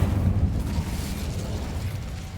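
An Incendio fire spell cast in Hogwarts Legacy, a close, loud whooshing roar of flame that bursts at once and fades steadily over two seconds.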